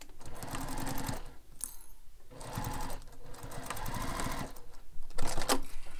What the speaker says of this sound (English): Now we'll sew the second side.